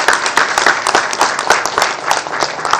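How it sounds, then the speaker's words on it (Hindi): Hearty applause from a crowd at a doctors' gathering at a Pakistani hospital in Charsadda, dense and steady with sharp individual claps standing out throughout. "हमारे मीडिया के भाइयों के लिए भरपूर तालियां एक दफा।"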